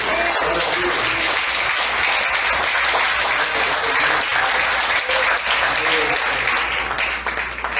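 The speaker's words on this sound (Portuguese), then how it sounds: "Pode aplaudir o nome do Senhor Jesus." A church congregation applauds steadily, dense clapping filling the room at an even level from start to finish.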